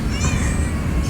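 A cat meows once, close and clear, its voice rising and falling against a steady outdoor background hiss.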